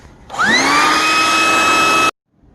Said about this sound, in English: I used the blow gun and dried everything off